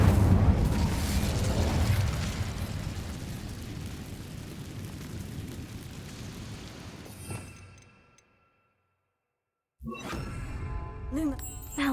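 A fire spell cast in Hogwarts Legacy erupts as a loud, rumbling blast that roars and slowly dies away over several seconds into near silence, before quieter game sounds with faint tones return.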